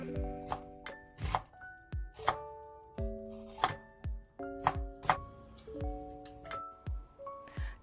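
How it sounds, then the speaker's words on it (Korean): A knife thinly slicing an onion on a cutting board, a quick, steady run of crisp chops, about a dozen close-up knocks with light music playing underneath. "양파도 얇게 썰어줍니다."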